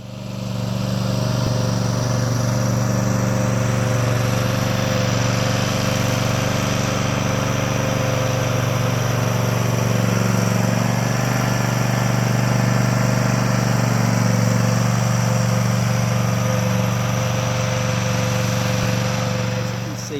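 A zero-turn lawn mower runs and turns across a sloped hillside, its engine a loud, steady, continuous drone close to the mic throughout.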